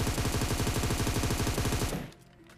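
Sustained rapid automatic gunfire in the PUBG Mobile battle royale game, a dense loud burst of shots lasting about two seconds before cutting off to quieter game ambience.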